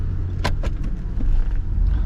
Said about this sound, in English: we're gonna go park the Hummer here and get it out of the way